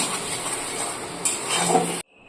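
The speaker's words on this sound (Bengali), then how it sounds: "দিয়ে আর একটু কষিয়ে নেবো ভালো করে, নেড়ে চেড়ে।" A spatula scrapes and stirs fried prawns with taro greens in a sizzling pan, a steady close frying hiss with metallic scrapes, cut off abruptly near the end.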